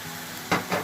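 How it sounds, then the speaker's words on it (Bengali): Malabar spinach stems frying in a hot pan, giving a steady soft sizzle that swells into two brief louder bursts as the stems are stirred, with no talking. "এই পর্যায়ে দিয়ে দিচ্ছি আমরা পুঁই শাকের ডাঁটাগুলো একটু আগে কষিয়ে নিব"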